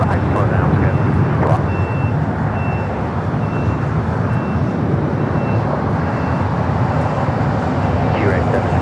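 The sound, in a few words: heavy jet airliner departing at LAX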